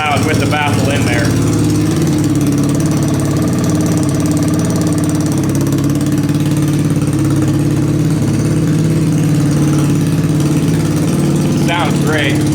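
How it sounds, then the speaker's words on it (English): A small-bore trike engine idles steadily and loudly through a large exhaust pipe fitted with a baffle, a continuous close-up rumble with a brief louder burst near the end. "It's still really loud with the baffle in there."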